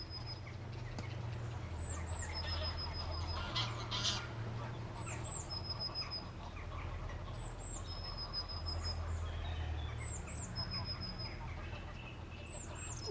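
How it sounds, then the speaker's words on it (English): Geese, ducks and rooks in a busy field near Pooley Bridge in the Lake District, with repeated bird calls and a honk-like cry every couple of seconds over steady low wind and background noise. "There's geese, there's sheep, there's ducks, rooks, there's all sorts here."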